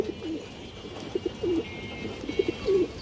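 A single male Indian high flyer Kaldom pigeon coos in short, low, repeated phrases that rise above a quiet background and grow more frequent toward the end.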